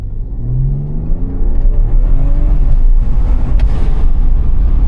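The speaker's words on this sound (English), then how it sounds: "There's a noticeable blow-off sound now with the turbo. The turbo's a lot louder when it spools." A BMW G30 540i fitted with a MAD intake pulls hard under a loud, close, steady engine drone whose pitch climbs, with a faint turbo spool whoosh riding over the rumble and no voices.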